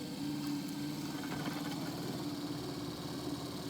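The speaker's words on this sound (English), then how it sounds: "I'm going to connect this wire on the other side to make sure that this motor works" Adjustable brake pedal actuator motor on a 1997–2004 Ford F-150 running on the bench: a steady, low electric whir with a constant hum, faint and unbroken throughout.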